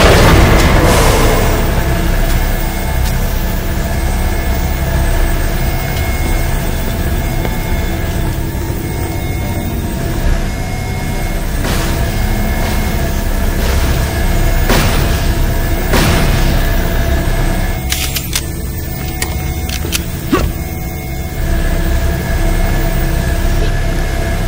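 A spaceship engine roars loudly and continuously in Borderlands: The Pre-Sequel, a dense, rumbling wall of noise with a heavy boom at the start and scattered sharper bursts throughout.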